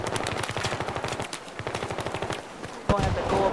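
Rapid automatic gunfire in the video game Battlefield 3 rattles in steady bursts, with a brief pause midway, then a louder burst near the end; the shots sound fairly close.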